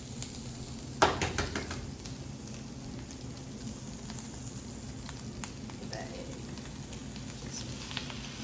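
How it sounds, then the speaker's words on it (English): Steady crackling sizzle of an egg and tomatoes frying in a pan, with a sharper pop or clatter near the start and scattered small spits throughout. "That's sizzling up real good."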